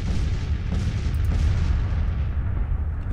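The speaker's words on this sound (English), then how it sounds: "We've got some artillery that's shelling me" Artillery shelling in the Grand Tactician: The Civil War strategy game, a continuous low rumble of distant booms and blasts rolling together without pause.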